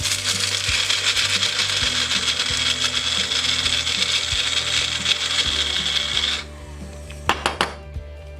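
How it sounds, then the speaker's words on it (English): A Magic Bullet blender grinds chocolate for a cake batter in a loud, steady whirring roar for about six seconds, then cuts off, leaving a few light clunks. "So I'm going to blend these up"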